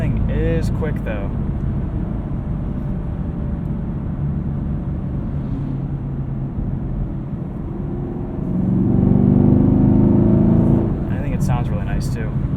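A 2018 Chevrolet Camaro 2SS with manual transmission hums steadily at close range, then swells louder as it accelerates near the end, with faint talking mixed in.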